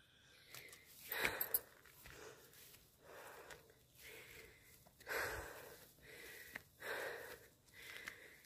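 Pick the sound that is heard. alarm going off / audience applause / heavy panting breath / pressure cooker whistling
heavy panting breath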